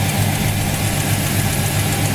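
A 1968 Oldsmobile Cutlass with its original 350 Rocket V8 idles close by, giving a loud, even, throaty rumble that holds steady throughout.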